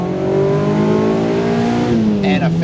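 Mazda MX-5 NC roadster, engine revving hard as it accelerates, a loud rising tone that drops briefly at a gearchange and climbs again.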